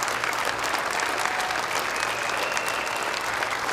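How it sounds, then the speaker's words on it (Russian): Standing ovation from a television talent-show audience after a singer's performance: dense, steady applause and crowd noise that fills the whole stretch at full strength. "зал аплодирует тебе стоя."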